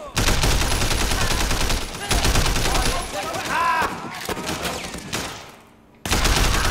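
Bursts of rapid gunfire in the Sleeping Dogs video game crackle loudly and almost without a break, with short pauses and a brief drop near the end before the shooting resumes.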